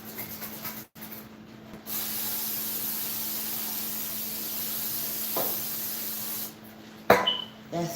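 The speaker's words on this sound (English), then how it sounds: "Sprayed it with Pam." Pam cooking spray is spritzed onto a bread pan in a home kitchen, giving a steady close hiss that lasts several seconds, followed by a few soft clatters.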